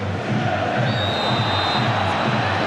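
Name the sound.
football stadium crowd rising in noise, Italy v England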